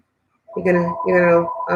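A telephone rings repeatedly without being picked up, each tonal burst lasting about half a second with short gaps between. The rings are clear and prominent against an otherwise quiet room.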